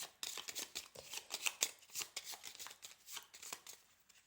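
Tarot cards shuffled and drawn by hand, with quiet, close papery riffles and taps in an uneven, busy rhythm and no voices.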